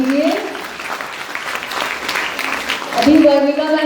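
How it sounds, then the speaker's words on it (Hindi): Applause from a conference audience at a national foster care conference fills the room steadily, with a voice speaking over it at the start and again near the end. "तालियों से स्वागत कीजिए।"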